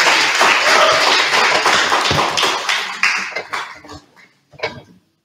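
An audience claps to welcome a speaker at a sharing session, a loud burst of applause that thins out after about three seconds into a few scattered claps before fading to silence.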